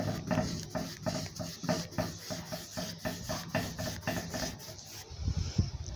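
A brush drawing thick, resin-like paint across a wooden beehive roof, pushing it into the grooves of the wood, gives close, rhythmic rasping strokes, roughly two per second, with a brief pause near the end.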